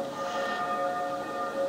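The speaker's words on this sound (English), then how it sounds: "Now at the sound of the bell, I can hear them faintly in the background." A bell rings faintly and steadily in the distance during an evening vespers service, its sustained tones hanging under a soft background hum.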